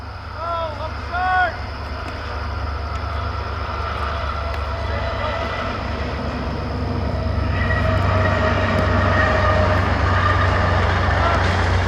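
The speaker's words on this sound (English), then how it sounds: "As the train passes by." A train passes near a baseball field during a U-15 regional game, a steady loud rumble with rising wheel and rail noise that builds through the clip, with a brief horn-like tone near the start.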